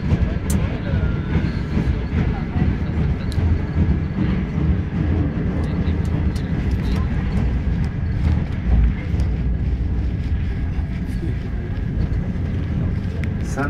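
A train ride with a steady rolling rumble and faint clicks of the wheels on the rails. A voice making a station announcement comes over the noise throughout.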